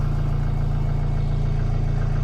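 A 1977 Mercedes-Benz 240D diesel engine idles just after a cold start. It makes a steady, low, even rumble with a regular throb that continues unchanged throughout.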